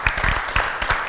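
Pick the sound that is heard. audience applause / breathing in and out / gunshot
audience applause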